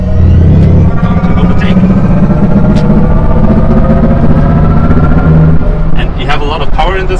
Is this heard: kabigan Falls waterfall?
no